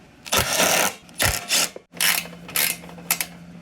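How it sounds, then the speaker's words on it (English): A wrench clicks and ratchets in several loud, close bursts while bolts come off a Cub Cadet snowblower, with short pauses between the turning strokes. "the first thing we're going to do is remove these two bolts there"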